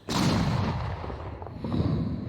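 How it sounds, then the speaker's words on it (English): A reversed explosion effect swells into a loud, sustained rumbling roar that holds for about two seconds with a crackling, boomy body, heard alone without talk. "It exploded in reverse."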